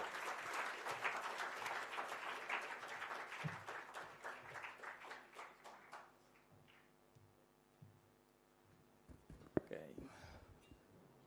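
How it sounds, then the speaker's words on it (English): Audience at an award ceremony applauding, dense clapping that starts loud and thins out over several seconds into scattered claps, with a brief sharp knock near the end. "a great round of applause for all these selfless people"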